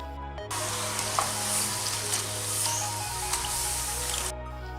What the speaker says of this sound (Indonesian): goreng sambil terus diaduk-aduk agar tidak lengket satu sama lain